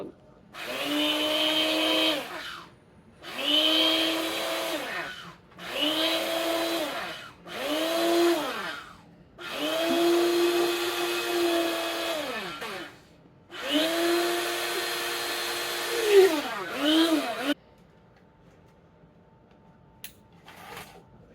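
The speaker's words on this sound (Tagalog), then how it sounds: "Fruit processor nga, electric blender." An electric blender runs in several bursts of a few seconds each, whirring loudly with short pauses between, then falls quiet near the end.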